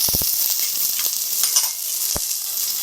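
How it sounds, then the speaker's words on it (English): Onion and peppers saute in a hot pan for a chicken quesadilla, giving a steady broad sizzle with a few sharp utensil clicks and stirring knocks near the start and one more later. "Now I'm going to saute these vegetables. Add the onion. And the peppers."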